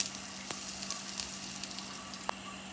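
Turmeric, asafoetida and other spices crackling in hot oil for a tadka in a home kitchen, a continuous close sizzle with scattered sharp pops and spits, no voices.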